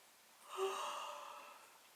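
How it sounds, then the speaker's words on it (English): A single drawn-out, fake breathy yawn, slightly voiced and exaggerated, rising and then fading over a couple of seconds, with no other sound around it. "That was a fake yawn."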